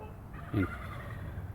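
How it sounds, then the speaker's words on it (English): A single short turkey gobble rings out once, fairly close, over quiet outdoor background noise. "Thank you for taking the time to check out these turkeys."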